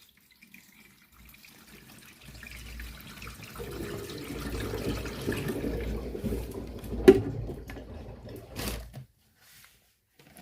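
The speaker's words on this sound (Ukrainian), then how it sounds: "Зараз я її ще залью води трохи, поки вона постоїть." Water pours steadily into the drum of an LG F2V5GG9T washing machine, building to a sustained rushing flow for several seconds, then stopping with a few splashes.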